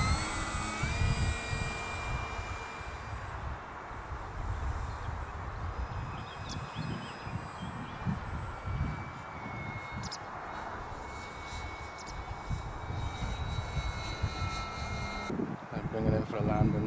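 A Super Cub model airplane flies on a windy day, its small engine droning steadily at a distance under heavy wind buffeting, with a thin high whine drifting in and out.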